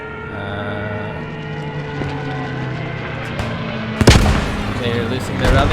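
Stuka dive bomber strike in a World War II video game: a steady engine drone with a siren-like whine, then a sudden loud explosive impact followed by rumbling, with a voice talking over it.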